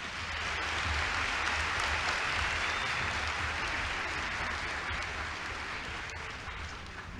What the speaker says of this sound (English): So another round of applause to the choir